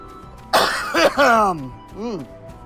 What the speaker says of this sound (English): I feel like my coughs are extremely unproductive right now.